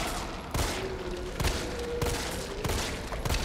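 Repeated gunfire from Resident Evil 3 Remake, several loud shots at uneven intervals over steady game background noise, with sustained firing aimed at a tough enemy.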